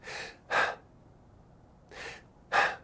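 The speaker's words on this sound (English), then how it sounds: "When your adrenals are overstressed, the breathing is kind of like this." A person demonstrates exaggerated, short, stressed breathing: four sharp, close breaths in two quick pairs separated by a pause, each inhale and exhale brief and forceful, with no talking.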